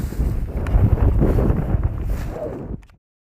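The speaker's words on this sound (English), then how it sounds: "But it is very, very windy, too windy." Strong, gusty wind buffets an outdoor microphone at an RC plane flying field, rumbling loudly and unevenly for nearly three seconds before cutting off abruptly.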